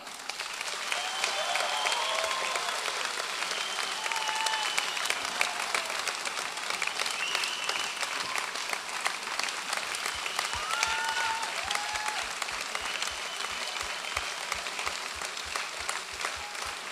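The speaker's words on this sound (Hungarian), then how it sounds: "ugyanilyen óriási tapsot érdemel másik énekesnőnk is" Sustained audience applause fills a live ABBA tribute show in Sárvár, a dense wash of clapping hands that holds steady and loud throughout with no break.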